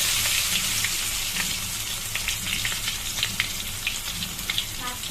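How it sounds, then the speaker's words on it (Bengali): Whole pointed gourds (potol) fry in hot oil, a steady close sizzle with small scattered pops and crackles running the whole time, no voices. "এবার তোমার তেলটা আমার গরম হয়ে গেছে। এবার পটলগুলো আমি ভেজে নেব।"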